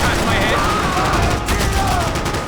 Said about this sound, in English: I can't concentrate with bullets whizzing past my